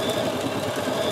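A Bernina 7 series embroidery machine starts sewing, giving a steady mechanical whir and rapid needle chatter at close range, with no voices.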